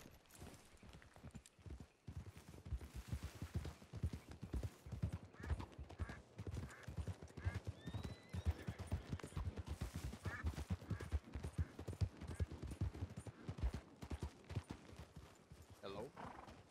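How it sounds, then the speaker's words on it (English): Video game horse hooves clip-clopping in a steady trotting rhythm, fairly faint, with a brief whinny and people talking over the gameplay. "That's Rosalind's fucking horse."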